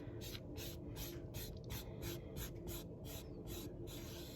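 Gentle rubbing on a gilded halo of an icon, a soft, steady rhythmic scraping and hissing that repeats in quick strokes, close and quiet with no talk.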